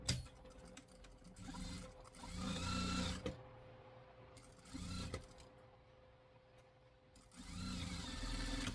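A sewing machine stitching fabric pieces for a toy sheep, several quiet runs of fast steady whirring separated by short pauses, close by and soft.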